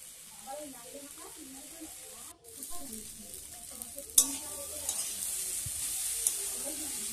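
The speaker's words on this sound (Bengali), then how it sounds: "এই যে করে নাড়া হচ্ছে, এখন ভালো করে একটু নাড়তে হবে।" Bengali village-style bottle gourd leaf curry, lau shaak chorchori, stirred in a pan: a quiet sizzle with a spatula scraping, a brief clatter midway, then a louder steady hiss as someone talks over the start.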